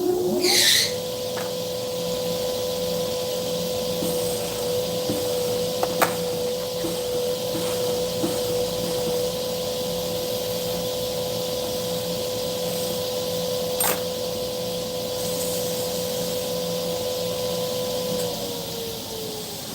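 A machine cuts a ring 0.1 millimeter deeper with a steady, sustained whine that holds an even pitch for nearly twenty seconds over a constant mechanical hum, with a few faint clicks.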